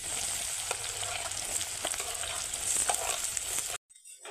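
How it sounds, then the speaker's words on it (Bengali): Chopped onion, ginger and garlic fry in oil with a loud, continuous close sizzle and stirring scrapes throughout, then the sound cuts off abruptly near the end, with no voices. "পেঁয়াজ, আদা, রসুন সব কিছু বেশ সুন্দর ভাজা ভাজা হয়ে গেছে।"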